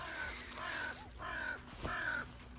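A crow on the west coast in spring gives four harsh caws in an even rhythm, each one clear and fairly close, with a quiet background and no talking.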